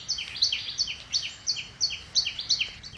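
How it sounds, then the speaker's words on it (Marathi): A common tailorbird calls repeatedly close by, a run of sharp, evenly spaced high chirps in steady rhythm with no voices over it. "आणि हा आवाज आहे कॉमन टेलर बर्ड शिंपी या पक्षाचा"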